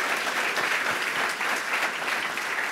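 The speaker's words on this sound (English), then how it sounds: "Please give a big round of applause for them." An audience applauds panelists at a launch event, a dense, steady burst of clapping from a crowd with no voices over it.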